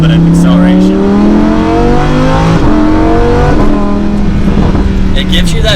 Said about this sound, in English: We'll do a last little bit of acceleration.